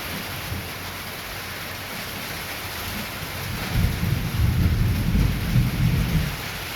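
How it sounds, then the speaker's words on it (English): A storm outdoors: steady rain hisses throughout while deep thunder rolls in about halfway and rumbles on for several seconds, loud and close, with no voices. "Can you hear the thunder?"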